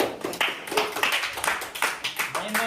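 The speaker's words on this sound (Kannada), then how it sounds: "ಹೊಡಿರ ಚಪ್ಪಾಳೆ" A few people at a birthday gift celebration clap in a quick, steady rhythm of sharp individual hand claps, close by and fairly loud, with some voices in the background.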